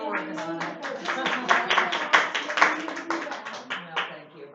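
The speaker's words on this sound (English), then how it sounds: "we should give Sandra a round of applause" A small group claps together in a brief round of applause, the claps rising and then tapering off, with voices faintly mixed in.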